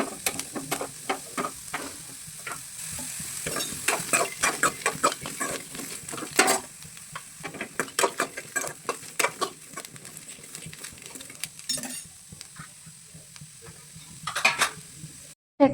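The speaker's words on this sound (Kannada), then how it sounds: "ಈರುಳ್ಳಿ, ಟೊಮೊಟೊ, ಮೆಣಸಿನ್ಕಾಯಿ, ಹುಣಸೆಹಣ್ಣು ಹಾಕಿಬಿಟ್ಟು ಬೆಳ್ಳುಳ್ಳಿ ಹಾಕಿ ಚೆನ್ನಾಗಿ ಹುರ್ಕೊತಾ ಇದ್ದೀನಿ" Onion, tomato, chili, tamarind and garlic fry in a pan for chutney, a soft steady sizzle broken by repeated scraping strokes of a spatula stirring the mixture, close and with no talk.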